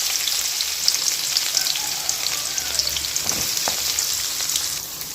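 Chopped onions hit hot oil in a pan where paneer has just been fried, giving a steady, close sizzle with a few soft stirring scrapes throughout.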